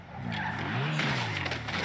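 Car tires screech in a skid in the video game GTA 5, a continuous squeal with engine tone lasting under two seconds, loud and close.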